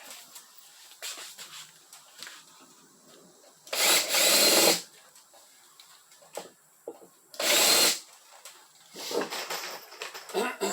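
A power drill countersinks holes during a chuck wagon adventure trailer build, running in two loud whirring bursts of about a second each with quieter workshop handling and faint voices between.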